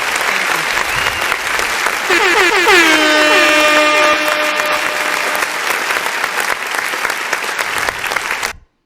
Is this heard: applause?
yes